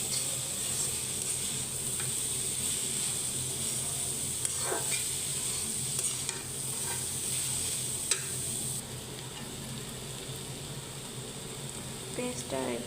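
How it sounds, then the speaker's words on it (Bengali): Chopped onions fry in a pan while a karela bhaji is cooked, giving a steady, fairly quiet sizzle and hiss with occasional light scrapes of stirring. "পেঁয়াজগুলো ভাজা ভাজা করব। পেঁয়াজগুলো অনেক সময় ধরে ভাজতে হবে।"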